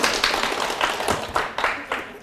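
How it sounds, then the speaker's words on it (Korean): Audience in a Korean lecture hall clapping briefly, a few sharp close claps over a steady bed of lighter applause. "그 박수 하나가 저를 또 기분 좋게 합니다"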